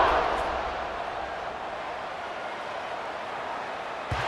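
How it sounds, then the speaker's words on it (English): A football stadium crowd at a college game between Clemson and Boston College fills the air with a continuous, roaring murmur, steady and broad, heard from a distance without distinct voices. "this crowd is buzzing after that last score"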